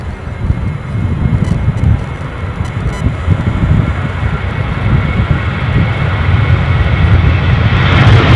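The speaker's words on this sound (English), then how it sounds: "I can see an EasyJet somewhere in the background looking like it's moving." An EasyJet airliner moving at Edinburgh Airport, a continuous low engine rumble and hiss at moderate distance that builds slightly toward the end, with no talking.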